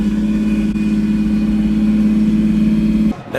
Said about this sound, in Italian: già sentitela al minimo questo 12 cilindri come canta